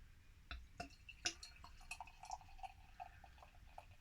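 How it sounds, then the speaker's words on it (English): Newcastle Brown Ale poured from a 550ml bottle into a glass, a quiet, close run of small drips and liquid splashes against the glass with a soft pour underneath. "Let's pour this in."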